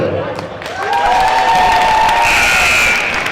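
Crowd at a high school girls' basketball game applauding and cheering for a senior, a loud swell of clapping and shrill whoops that builds after a second and holds.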